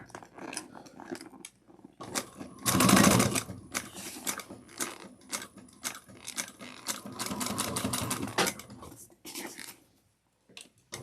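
A sewing machine stitches a Carlotta Commuter bag in short, uneven bursts of rapid clicking with pauses between, close by, and one louder, denser run near the start.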